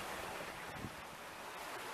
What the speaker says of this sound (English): the wind and the waves are behind me